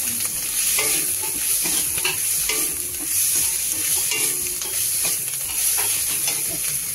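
Loud, continuous sizzling and crackling as dal is poured into hot spice tempering in a pot, with occasional stirring scrapes and clinks over the steady frying hiss.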